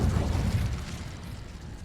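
A fire spell cast in the video game Hogwarts Legacy gives a loud, low rumbling whoosh and burst that is strongest at the start and then dies back over about two seconds, with no talk over it.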